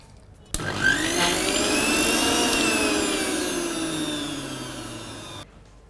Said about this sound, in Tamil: இதை வந்து நம்ம நல்லா இப்போது கிரைண்ட் பண்ண போகிறோம்.